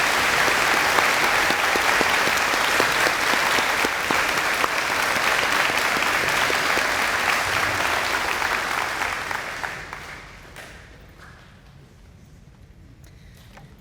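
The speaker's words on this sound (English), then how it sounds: "Let's have one more round of applause for the new inductees." A school audience applauds new National Junior Honor Society inductees at an induction ceremony, a dense sustained round of clapping that carries on for several seconds, then thins out and fades to a quiet room.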